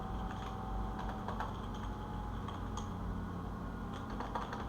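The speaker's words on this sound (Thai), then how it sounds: "โอเค พิมพ์เลยนะครับผม" Computer keyboard typing while entering a Python build command, a steady stream of light close key clicks over a constant low hum, no talking.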